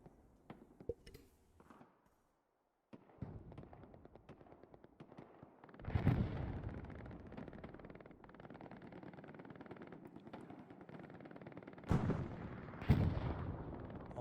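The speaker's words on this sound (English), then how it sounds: "All the explosions." Loud booming explosions and gunfire bursts from the war game Hell Let Loose, with heavy blasts rising at several points amid rumbling battle noise.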